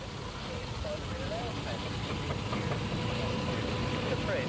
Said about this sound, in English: Traction engine at one end and a saw bench at the other, both joined together by a canvas belt.